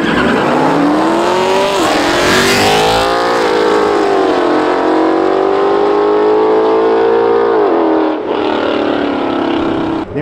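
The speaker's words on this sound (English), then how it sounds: "Getting a little burnout. The Camaro can't quite get it, but he gonna get it," Chevrolet Camaro doing a burnout at a street racing meet, its engine screaming at high revs with a rising and falling whine and continuous tire squeal, loud and close throughout.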